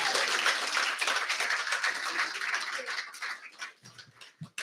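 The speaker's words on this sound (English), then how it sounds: "So can we give one more round of applause," An audience at a speech event applauds, a thick burst of clapping that thins out and fades after a few seconds, leaving scattered claps and faint voices near the end.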